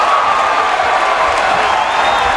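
A boxing crowd at a Miguel Cotto versus Yoshihiro Kamegai bout roars and cheers after a left hook, a loud, steady wash of voices with scattered whoops and a commentator talking over it.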